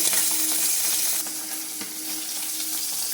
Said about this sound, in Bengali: তেল ফাটছে, যেসব মাছের গায়ে আঁশ নেই সেসব মাছ ভাজতে গেলে ভীষণভাবে কিন্তু তেল ফাটে।